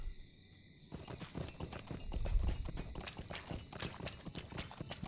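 A horse wading across a river ford in Lord of the Rings Online, a brisk run of splashing hoofbeats that starts abruptly after a quiet moment and continues steadily, near and moderately loud.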